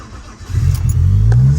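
A car left unused for two months cranks and catches, its engine quickly rising into a loud, close idle with a rising tone and no talking over it.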